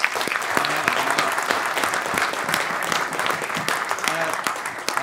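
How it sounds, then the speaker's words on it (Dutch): An audience at a political café event gives a warm, steady round of applause for two guests, dense clapping at an even level throughout with faint voices underneath. "Geef ze een hartelijk applaus, Boy Scholten en Willem Daniels!"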